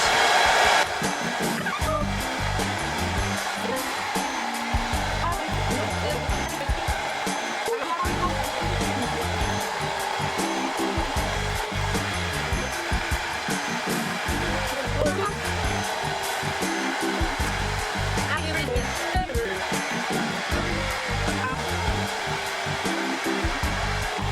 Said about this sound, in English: I'm going to turn the hairdryer off